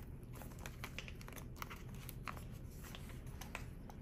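An olive binder of cash envelopes being handled, with soft, close crinkling and rustling of paper and plastic pages, faint and continuous.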